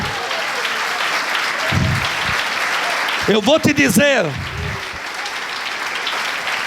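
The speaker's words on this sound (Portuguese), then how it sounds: "Aplaude o teu Deus, amém," A church congregation applauds during a Sunday service, a steady broad wash of clapping running through the whole stretch, with a voice speaking over it midway.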